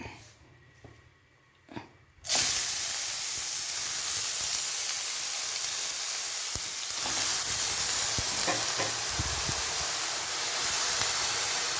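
Chopped banana flower goes into a hot pan with no onions or mustard and is stirred as it fries, starting as a sudden loud sizzle that settles into a continuous hiss, with occasional scrapes of stirring.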